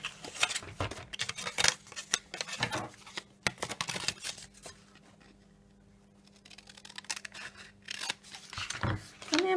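Scissors snip across a drawn line while making a two-layer Lindor ball chocolate box, giving a run of crisp, close cuts in bursts, a quieter pause midway, then more snipping.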